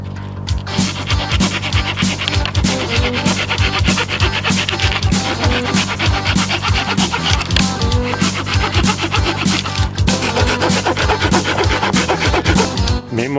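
A small hand saw cuts through wood outdoors in a forest, with loud, steady back-and-forth rasping strokes repeating rhythmically throughout.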